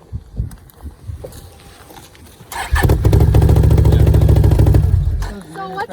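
A Can-Am side-by-side with an aftermarket exhaust fires up and runs with a deep, loud, throbbing idle for a few seconds after some handling noise, with people talking nearby.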